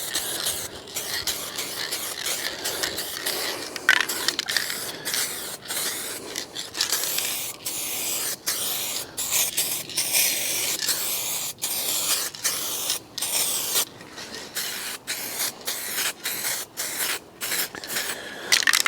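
An aerosol paint can sprays a coat onto scratched bodywork of a 2016 Fiat 500 Lounge, a nearly continuous close hiss broken by frequent brief stops as the nozzle is released and pressed again.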